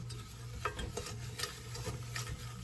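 Sugar being stirred into melted butter in a pan, a soft gritty scraping with light irregular taps of the utensil against the pan over a steady low hum, close and quiet, with no talk.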